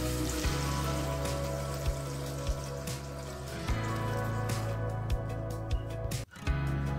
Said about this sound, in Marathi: संपूर्ण पाणी काढून घ्यायचे।